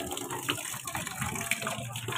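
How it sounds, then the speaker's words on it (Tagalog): A weak trickle of tap water fills a washing machine, a soft steady gush with small splashes, heard alone and fairly close. "Ito ang tulo ng tubig."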